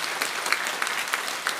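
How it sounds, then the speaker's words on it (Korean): Church congregation clapping in praise during a Friday night prayer service, a steady, dense wash of applause with a few sharper claps rising out of it, filling the whole short stretch. "영광의 박수 올리겠습니다"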